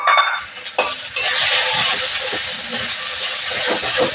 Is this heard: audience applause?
no